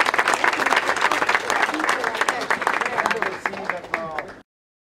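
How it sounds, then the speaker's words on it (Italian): A crowd at a political event breaks into loud, sustained applause, with voices mixed in, then the clapping tapers off and stops abruptly near the end. "Un applauso!"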